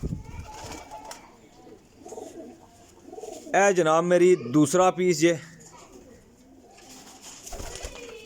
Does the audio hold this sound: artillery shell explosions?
no